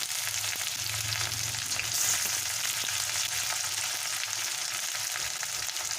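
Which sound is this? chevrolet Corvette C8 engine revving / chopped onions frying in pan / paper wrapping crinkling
chopped onions frying in pan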